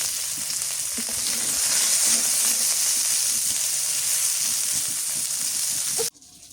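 Chopped onions sizzle and crackle steadily in hot oil in a village kitchen, a dense close frying hiss with faint stirring knocks, cutting off abruptly near the end.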